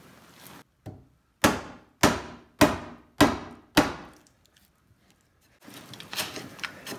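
A mallet drives a chisel into timber while cutting frame joinery for the floor sills of a small timber-frame building, giving six sharp, evenly spaced woody knocks at close range, followed by quieter scraping as the chisel is worked free.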